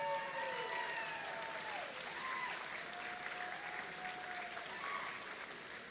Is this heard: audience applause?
yes